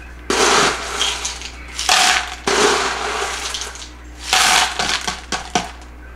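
Water is poured into a plant pot during repotting in bursts of gushing and splashing, close and fairly loud, with brief gaps between pours and no talking.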